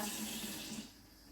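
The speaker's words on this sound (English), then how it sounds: "I've now got my icing sugar and I'm just adding a little bit of water" Water is poured from a tap into a bowl of icing sugar in a home kitchen, a short steady close-up stream and splash that eases off toward the end, with no voices.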